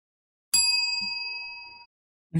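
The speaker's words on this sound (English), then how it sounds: "That's our synchro bell." A synchro bell is struck once, giving a clear bright ding that rings on steadily for about a second and a half before stopping abruptly, close and isolated in quiet.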